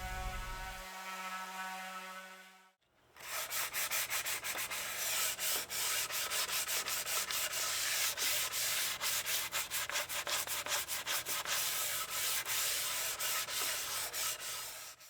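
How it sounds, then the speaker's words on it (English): An orbital sander works across flat wood surfaces of a DIY monitor shelf, a steady close whirring rasp with rhythmic pulsing that runs continuously after a brief hum and pause. "using my orbital sander for the flat surfaces"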